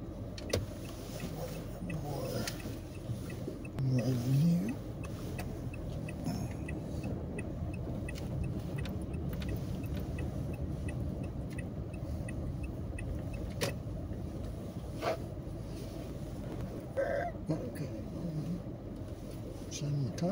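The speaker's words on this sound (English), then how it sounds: "I'm gonna park on the other side." A car rolls along at low speed toward a parking spot, its steady engine and road noise continuous and close throughout, with people talking over it.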